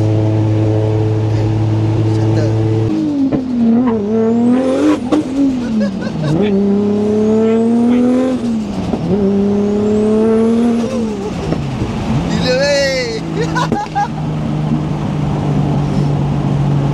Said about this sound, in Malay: Oh dengar letup-letup tu, dia sebab enjin dah panas.